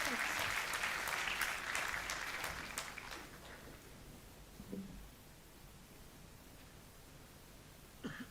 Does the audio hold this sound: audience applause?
yes